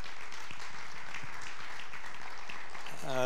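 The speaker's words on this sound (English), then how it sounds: "So, John, would you come on up and give John a round of applause?" A church members' meeting audience applauds as a man is welcomed up to speak, a dense, even wash of many hands clapping at moderate distance, steady throughout with no voices.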